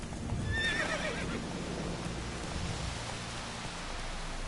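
Roach, the horse in the video game Witcher 3, gives a bright neigh early on, then hooves trot steadily over a constant bed of rain.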